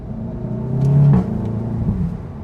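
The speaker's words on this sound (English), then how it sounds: "the exhaust is kind of a bit more toned down when you're just in drive" A Cupra 300 DSG with resonator delete idles and hums steadily in normal drive mode with a low, restrained exhaust note, swelling briefly in the middle before settling back to a smooth rumble.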